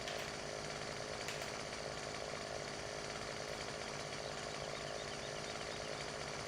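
Chainsaw cutting in the video game Farming Simulator 17 gives a steady, dense, continuous buzzing drone that holds at an even level throughout, with no voices over it.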